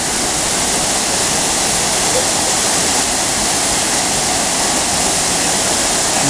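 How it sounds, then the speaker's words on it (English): Long Creek Falls, a waterfall on a hiking trail, heard up close as a loud, steady, broadband roar of rushing water that fills the whole clip with no pauses. "Here we are at Long Creek Falls."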